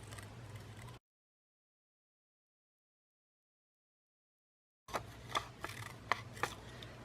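Scissors snip through a paper collage cutout in a quiet tabletop setting, a few short crisp cuts and rustles after a long silent gap.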